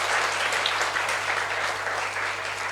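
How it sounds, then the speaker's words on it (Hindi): Audience clapping steadily at a Modi Care presentation, dense and continuous for the whole stretch, with no voices over it. "ऐसी शख्सियत के फोटो को देख के आप ताली बजाओ समीर मोदी जी के लिए"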